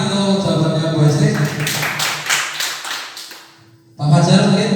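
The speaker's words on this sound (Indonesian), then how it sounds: "Tepuk tangan untuk jawabannya Bu Hesti." A few participants in a teachers' meeting applaud an answer, a brief patter of claps under overlapping speech before a voice resumes.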